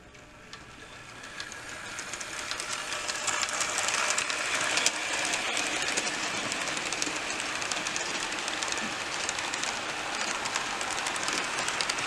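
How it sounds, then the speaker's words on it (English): A model train hauled by a Bachmann Western Pacific GS-64 4-8-4 steam locomotive rumbles and clatters steadily along the track, growing a little louder over the first few seconds, then holding a constant rolling clickety-clack. "let's watch this thing haul a train"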